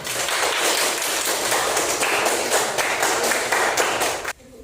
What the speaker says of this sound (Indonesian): Kasih tepuk tangan untuk semua kelompok.